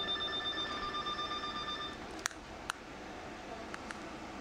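A telephone rings with an incoming call during a radio broadcast, a steady electronic trill heard fairly close, followed by a few short clicks as the line is picked up.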